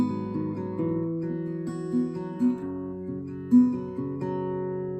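Acoustic guitar strums the second part of the chorus chords of Ed Sheeran's Camera (live version), steady close-miked chords ringing out alone with no voice.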